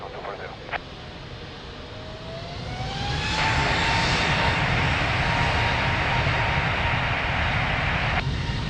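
A fixed-wing airliner takes off from runway 02 at Lisbon Airport, its engine roar swelling from a steady whine into a loud, sustained broadband rush at fairly close range, with no one talking.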